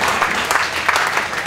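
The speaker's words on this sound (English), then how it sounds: "I think they deserve a huge round of applause." A short, dense burst of audience clapping at an outdoor pancake race event, steady and fairly close throughout.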